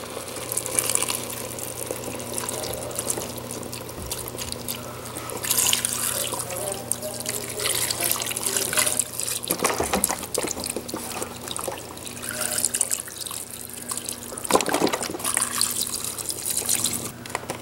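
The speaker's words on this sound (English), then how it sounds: "And pour our broth in." Beef broth pours steadily into a stew pot for a long stretch, with a few soft clinks and splashes along the way.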